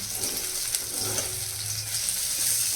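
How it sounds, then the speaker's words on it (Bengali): Small fish fry in a pan at home, a soft continuous sizzle and crackle heard up close and alone. "দেখো এখনও এই ভাজাভুজি হচ্ছে"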